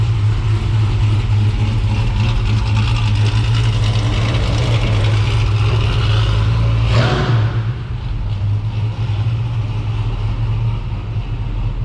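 A Chevrolet Avalanche engine runs steadily at idle with a strong low hum and a brief rise near the middle, heard alone without talk as the truck is moved outside.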